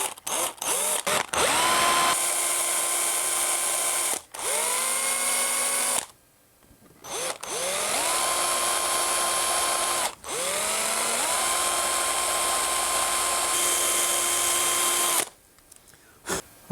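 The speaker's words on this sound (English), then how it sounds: "I'm going to come back and drill some holes for some pins" A power drill bores pin holes in a homemade deep-diving crankbait fishing lure, several close high-pitched whining bursts rising quickly to speed, each running a few seconds before stopping, with short silent gaps between them.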